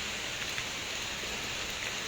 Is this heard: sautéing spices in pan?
no